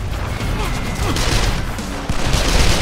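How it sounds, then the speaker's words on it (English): Machine gun fire in the video game Call of Juarez The Cartel, a dense continuous rattle of rapid shots that fills the whole moment, loud and close with a busy combat din. "We got a massive motherfucking machine gun!"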